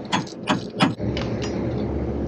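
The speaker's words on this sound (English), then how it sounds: "we loosen this tensioner bolt on the bottom" A wrench works the tensioner bolt on a Cadillac Brougham's power steering pump with a few sharp metallic clicks and ratcheting bursts up close. Then a steady low mechanical rumble carries on beneath.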